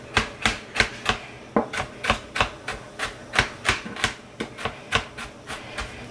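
Knife chopping an onion into small pieces on a board, a steady series of sharp close knocks at roughly three per second, evenly paced over a faint background hum.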